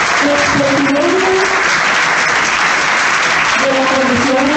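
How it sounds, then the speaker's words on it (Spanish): A crowd at a political gathering in Venezuela bursts into loud, sustained applause, dense clapping throughout with voices and cheers mixed in. "Un aplauso para ella"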